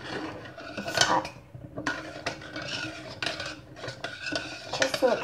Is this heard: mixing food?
yes